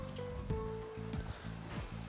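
Water pours into a pot of goat biryani rice, a steady close wash of splashing over a low kitchen hum.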